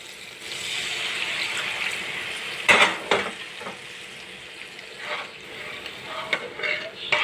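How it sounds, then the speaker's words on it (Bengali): Water is poured into spice masala frying in oil. A steady sizzle runs throughout, and a brief splashing surge comes partway through, with softer stirring clinks after it, all close by. "এবার আমি জল দিয়ে দেবো।"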